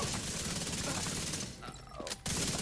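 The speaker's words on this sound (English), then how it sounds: "That snappy reload is so satisfying." A weapon in Division 2 fires rapid automatic bursts, then briefly drops out for a quick mechanical reload click before firing resumes, loud and close.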